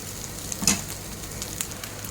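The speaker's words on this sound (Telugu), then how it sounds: "ఇలా మొత్తం అంతా కొద్దిసేపు ఫ్రై చేసుకోవాలి" Dried prawns coated in masala fry in a pan with a steady, faint crackling sizzle and a brief louder pop near the start.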